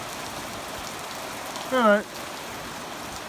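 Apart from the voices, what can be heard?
gentle rain shower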